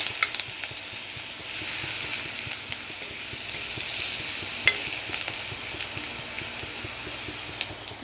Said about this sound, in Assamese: আৰু এতিয়া পিঁয়াজখিনি ধুনীয়াকৈ ভাজি ল'ম।